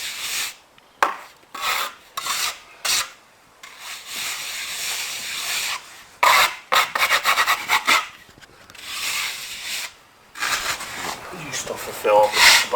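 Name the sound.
rubbing sand and cement render smooth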